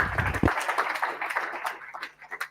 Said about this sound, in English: Then another applause, please.